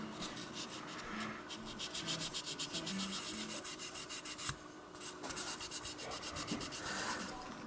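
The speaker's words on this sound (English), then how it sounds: "just very lightly sand it. Let the sandpaper do the work" A shifter indicator lens is sanded lightly with 1000 grit sandpaper in a steady back-and-forth rub, close and faint, with a brief pause midway before the strokes resume.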